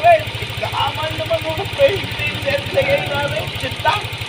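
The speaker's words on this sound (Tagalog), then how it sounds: "So ganito yung problema ng mga Aerox NMAX, yung lagitik problem na yan, yung tunog Jolene." A hot Yamaha Aerox or NMAX scooter engine idles with a fast, rhythmic ticking knock beneath it, while someone talks over the sound throughout.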